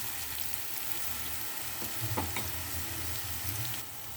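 Bitter gourd fry sizzles in a pan as chili powder is stirred through, a close, continuous crackle with a few scraping stirs and no one speaking.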